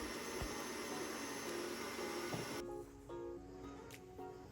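Stand mixer whisking butter, sugar and eggs for pistachio cake batter at medium speed, a steady loud whirring drone that drops slightly in pitch and intensity partway through, with no voices.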